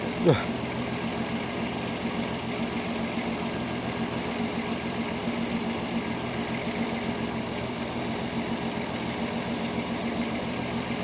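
A 1967 Mustang V8 with Holley Sniper 1100 EFI idling, a steady low rumble with an even pulse, close and continuous after a brief click at the start.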